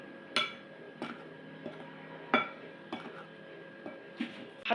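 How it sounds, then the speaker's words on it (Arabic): Flour, sugar, yeast and salt for pizza dough being mixed in a bowl, heard as a few sharp clinks and scrapes of a utensil against the bowl at irregular intervals, close and fairly quiet, with no talking. "نخلطوهم مليح مع بعضاهم"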